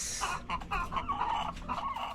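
Chickens kept for eggs cluck in a run of short, repeated calls close by, with a steady low background hum beneath them.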